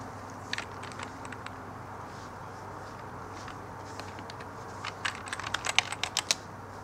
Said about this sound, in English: administrator password comes up and just type that in